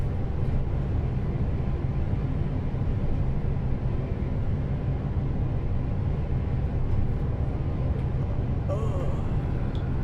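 A Marcopolo G7 1200 bus with a straight-six engine drones steadily in Euro Truck Simulator 2, a constant low rumble cruising throughout with someone talking over it.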